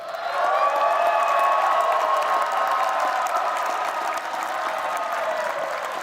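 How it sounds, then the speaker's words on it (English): Commencement audience at a fall 2024 master's ceremony applauds a student speaker, a steady, fairly distant wash of many hands clapping that swells in the first second and holds evenly, with faint crowd murmur beneath. "let's give another round of applause to a fantastic, outstanding speakers from the class of 2024, Adibisi Adedayo"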